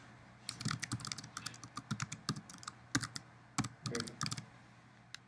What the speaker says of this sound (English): So just type something.